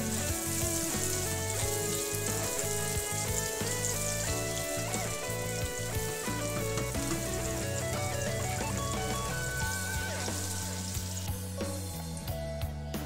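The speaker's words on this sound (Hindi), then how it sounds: "सबसे पहले मैंने 1 दरमियानी प्याज चॉप की हुई ऑयल के अंदर डाल दी है।" Chopped onion frying in hot oil in a pan while filling is made for a chicken burger, giving a steady, continuous sizzle under background music.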